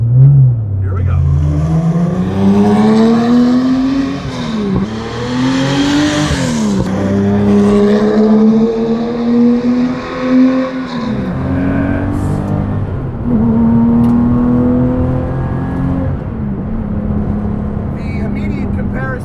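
A Guntherwerks 400R, a reworked air-cooled Porsche 911 making 430 horsepower, accelerates hard in sport mode. Its flat-six revs climb through several gears with sharp shifts, loud and close inside the cabin, while someone talks over it.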